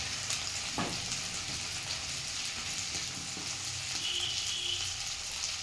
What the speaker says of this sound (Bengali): এবার এতে দিয়ে দেওয়া হচ্ছে পরিমাণ মতো হলুদ গুঁড়ো প্রায় এক টেবিল চামচের মতো